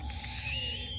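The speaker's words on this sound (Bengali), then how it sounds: "দূরে কোথাও একটা হুতুম পেঁচা ডাকছে।" An eagle owl hoots at night in pitch darkness, a low steady call carrying from some distance over a continuous background hum, with no voices present.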